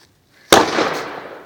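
A firecracker explodes in a campfire with one sharp, loud bang after a near-silent start, followed by a long crackling, hissing tail that slowly fades.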